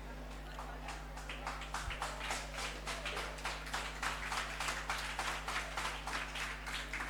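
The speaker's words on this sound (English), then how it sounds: "a round of applause for our amazing participants" An audience at the Golden Mic 23 event claps for the participants, quiet at first and then building into steady rhythmic applause over a low constant hum.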